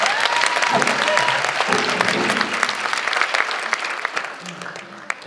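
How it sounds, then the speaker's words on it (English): Sustained crowd applause fills a fundraising gala hall for Gift of Life USA in 2018, a dense, steady wash of many hands clapping throughout, with scattered voices mixed in. "Let's give them an applause,"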